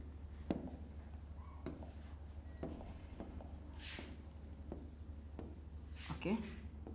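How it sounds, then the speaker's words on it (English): A pen scratches out a chemical structure in short, faint strokes during a live organic chemistry lesson, the quiet writing sounds set under a low background hum and occasional speech. "I will be writing a structure."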